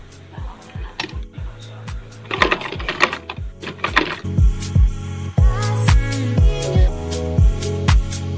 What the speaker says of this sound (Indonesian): Sekarang kita jahit dari atas ya, tepat di tengah-tengah jahitan ini